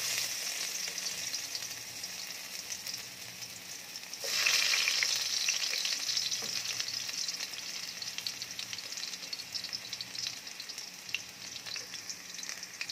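Garlic dropped into hot oil in a frying pan bursts into a bright, steady sizzle that begins abruptly and keeps crackling, with a few faint clicks of stirring.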